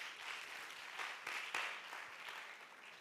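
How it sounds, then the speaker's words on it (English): A conference audience at an innovation week event in Uganda gives a round of applause, a faint, steady wash of many hands clapping with a slight swell near the middle. "now let's give a round of applause like we really mean it"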